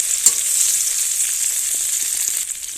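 Spices, tomato and green chillies fry in hot oil, a steady bright sizzle running throughout with a small pop near the start, close and loud, with no talking.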